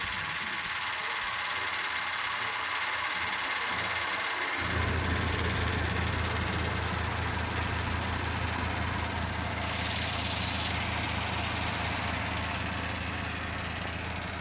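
A 2014 Hyundai Grand i10 Asta with an automatic AMT petrol engine idles close by. The note is a steady low hum that grows fuller and louder after a few seconds and then holds even, with no talking.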